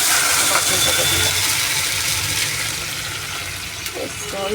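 Spice paste sizzles and crackles in a hot pan with fried cumin, a steady hiss that slowly fades, with a voice speaking over it.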